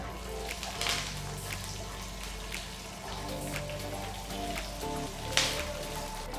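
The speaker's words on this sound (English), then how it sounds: "add 1 teaspoon of Cumin Seeds, 2 chopped dry red chillies and a few fresh curry leaves and saute well" Cumin seeds, chopped dry red chillies and fresh curry leaves sauté in hot oil with mustard seeds, giving a dense, steady crackle and spatter with a few sharper pops, heard close up.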